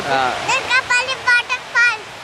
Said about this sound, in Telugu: Turkapalli water falls